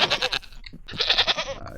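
Goats bleating in the survival crafting game TerraFirmaCraft, two close, loud nasal bleats in quick succession, the second longer and wavering.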